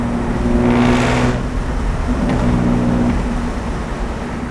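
A BMW E36 with a loud, blown-out exhaust rumbles at close range, its deep droning note swelling with a brief rev early on and again midway before settling into a steady throaty idle-like roar.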